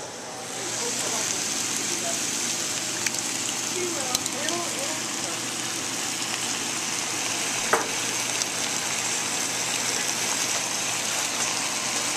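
Pre-made organic sauces going into a sizzling pan for tomato and sausage tortellini, making a steady loud frying hiss throughout, with a faint voice murmuring under it.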